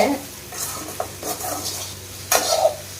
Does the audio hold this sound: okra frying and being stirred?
yes